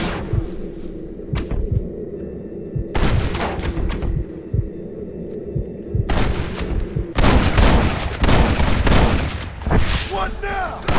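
Gunfire in Red Dead Redemption, loud bursts and volleys of shots with heavy thuds that come in clusters, broken by short lulls and faint voices in the background.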